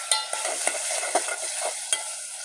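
Tomatoes and green chilies stir-fried in a pot for pea pulao, a soft sizzle broken by several sharp, irregular spoon scrapes and knocks, close and fairly quiet.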